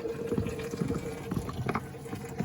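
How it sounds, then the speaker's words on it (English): Water from a hose spraying onto the body of a 2008 GMC Acadia SLT, a steady hissing patter with small splashes and drips, heard up close from inside the car. "it being sprayed with water."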